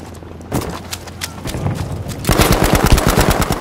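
Rapid bursts of STEN submachine gun fire in Battlefield V, loud close rattling shots in quick rhythmic strings, growing denser and heavier toward the end.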